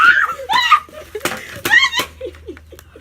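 A person lets out a sharp, loud scream close to the ear, mixed with bursts of laughter and chatter from several people around.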